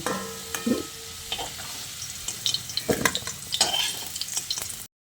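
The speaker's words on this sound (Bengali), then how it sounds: "এবার আমি এই ভাজা আলুগুলোকে তেলটা ছেঁকে তুলে নিচ্ছি।" Fried potatoes are stirred and scooped out of hot oil, with clattering scrapes and knocks of a utensil over a crackling sizzle, then an abrupt stop.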